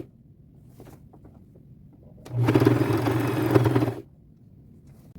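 A home sewing machine stitches a lace ruffle onto a thrifted jacket, with one steady, buzzing run of about two seconds set between quiet handling noises.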